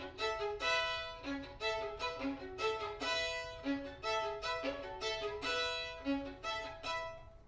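Solo violin playing a short repeating main motif, bright bowed notes in a quick looping pattern, quiet and alone with no talking.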